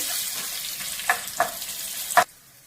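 Tempering spluttering in hot oil for a cucumber chutney, a steady sizzle broken by a few sharp close clinks, then cutting off abruptly into near silence.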